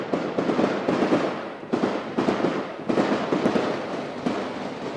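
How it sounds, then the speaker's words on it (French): Gunfire erupts during a police assault on an apartment in a residential neighbourhood, with dense, rapid bursts of cracking shots that come in waves over several seconds and echo loudly, with no talk. "6 à 7 minutes d'échange de coups de feu, tout le quartier les entend"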